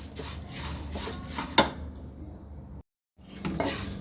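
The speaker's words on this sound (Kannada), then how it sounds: "ನಾನು ಇದನ್ನು ತೆಗೆದು ಇನ್ನು ಬೇರೆ ಅವಲಕ್ಕಿನ ಹಾಕ್ಕೊಂಡು ಹುರಿತೀನಿ" Flattened rice (avalakki) being stirred and roasted in a pan at home, with scraping and rustling rubs, a sharp clink, a brief pause of silence, then more stirring.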